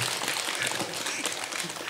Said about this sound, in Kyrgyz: Жакутка кол чаап койгуңуздар